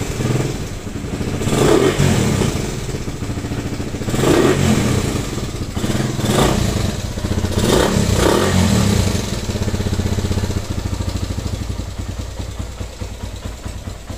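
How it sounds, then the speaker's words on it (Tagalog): A motorcycle engine with timing chain trouble idles noisily nearby, its clattering, rattling running steady throughout with occasional slight rises. "Kung mapapansin niyo dun sa video, maingay nga yung makina"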